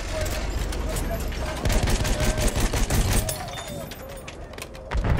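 Machine gun fire in the World War I shooter Battlefield 1, rapid bursts of gunfire crackling amid battle noise and distant blasts, with shouted voices over the fighting.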